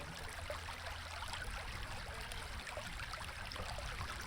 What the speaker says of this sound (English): I just love that sound of the water trickling.